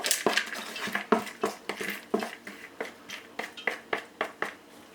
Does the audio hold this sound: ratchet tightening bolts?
no